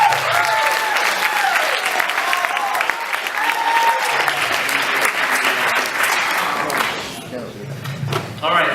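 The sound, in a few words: audience applause after a debate topic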